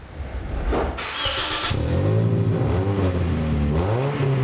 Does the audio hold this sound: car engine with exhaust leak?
yes